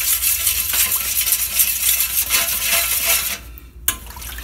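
A utensil stirs salt into water in a bowl for pizza dough, giving a steady scraping, swishing sound close by, then a brief pause and a small clink near the end.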